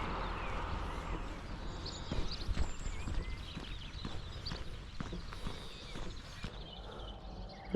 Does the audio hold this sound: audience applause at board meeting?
no